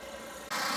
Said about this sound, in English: They're doing some pressure washing.